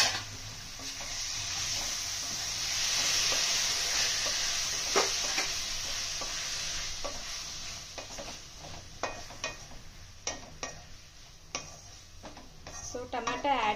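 Chopped tomatoes added to a pan of frying fenugreek leaf curry, a steady close sizzle with scattered clicks and utensil taps against the pan.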